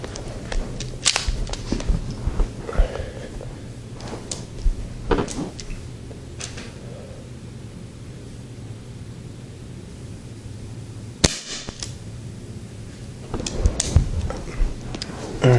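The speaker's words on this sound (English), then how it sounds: "Here comes the second shot." Modified Dan Wesson 8-inch CO2 .177 air pistol firing, with a couple of sharp, close cracks standing out against steady background hiss, including one especially crisp snap near the middle.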